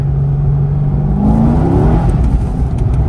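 A C6 or C7 Corvette accelerates hard in second gear, its engine note climbing steadily in a loud rising roar that carries from start to finish. No one talks over it.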